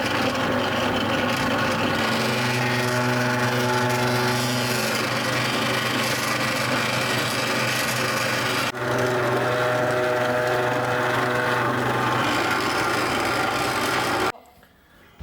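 A noodle dough grinding machine runs steadily while dragon fruit noodle dough is rolled, producing a loud mechanical hum with whirring tones. Its pitch shifts partway through, and it cuts off abruptly near the end.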